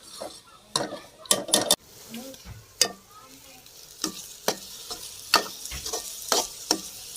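Ginger-garlic paste goes into finely chopped onions frying in a pan for kaleji salan, giving a steady low sizzle with repeated sharp spoon scrapes and knocks against the pan, close and fairly loud, with no talking.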